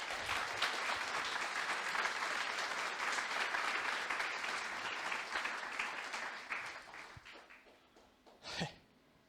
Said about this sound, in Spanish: Si usted no da un aplauso a Dios en este momento.